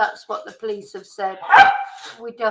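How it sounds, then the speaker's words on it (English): A single loud dog bark sounds nearby in the middle of ongoing talk, briefly rising above the speaking voice. "sorry about the dog"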